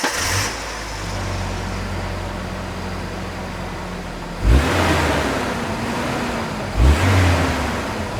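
Engine of a Ford Ranger pickup heard from the front, a steady loud idle with two short revs rising and falling, close up.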